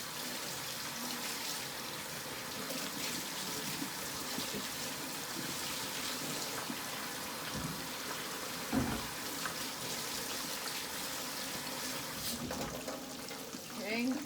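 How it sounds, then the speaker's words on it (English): Tap water runs steadily as hands are washed in a kitchen during deep frying of fish fillets, a continuous close hiss with faint splashes and a few brief knocks. "Wash my hands."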